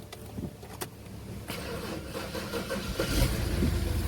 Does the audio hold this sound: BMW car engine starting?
yes